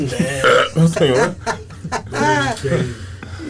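A voice lets out a drawn-out, croaking burp amid talking and chuckling.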